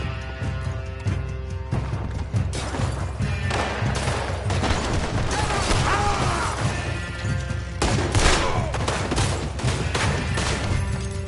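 Dense gunfire fills a Red Dead Redemption 2 shootout, with loud rifle and pistol shots cracking in rapid, irregular bursts over a constant din of combat, and shouted voices now and then.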